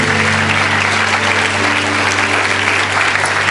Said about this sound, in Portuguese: Quantos podem dar um glória a Deus e podem aplaudir ao Senhor Jesus?